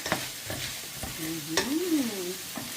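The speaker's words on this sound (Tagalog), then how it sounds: "Igigisa-gisa natin ang ating gulay." Potatoes, carrots and chayote sautéing in a pan, with soft sizzling under a series of spoon scrapes and stirs, close and moderately quiet.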